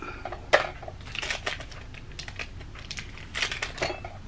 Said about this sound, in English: I gotta cut it open right